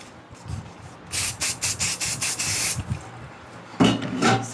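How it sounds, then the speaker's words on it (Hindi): Hair spray misted onto hair during a wavy hairstyle session, with a run of short hissing bursts in quick succession, then a couple more sprays after a pause, close and fairly loud. "इसमें करेंगे अपनी हेयर स्प्रे का यूज़"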